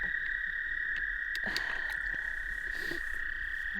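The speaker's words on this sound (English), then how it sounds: "I'm finding all other kinds of frogs, but no peepers." Frogs call in a continuous high trilling chorus that holds one steady pitch the whole time. Scattered clicks and soft patters sound underneath it outdoors.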